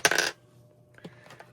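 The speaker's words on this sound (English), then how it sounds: "Let's do a little dice." A die is dropped for savings tracking and lands with a short, bright rattling clatter, followed by a softer second tumble about a second later, close and alone.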